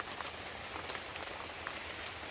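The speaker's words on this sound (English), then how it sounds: "But started raining." Steady rain falls in a mountain garden, a dense, even hiss of drops striking leaves and ground that stays constant and moderately loud throughout, with no voices.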